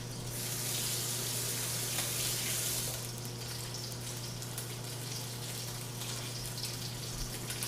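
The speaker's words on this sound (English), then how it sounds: "I'm just going to wash my hands" A kitchen tap runs steadily while a chef washes his hands beside a pan of searing Atlantic salmon, the water's hiss strong for a few seconds and then easing into a softer, continuous flow over a low hum.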